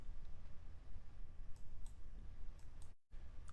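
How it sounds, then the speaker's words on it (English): Several faint, crisp computer mouse clicks spread across a few seconds over a soft steady background hiss, as code is selected and run. "I select all these and click run."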